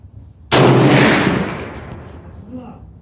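A single loud rifle shot from a Bear Creek 450 Bushmaster cracks at close range at an outdoor shooting range, followed by a long, fading echo.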